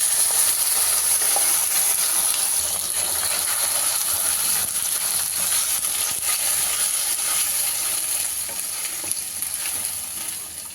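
Freshly ground masala for mango chitranna fries in a pan, a loud, continuous close-up sizzle with a light crackle that eases slightly toward the end.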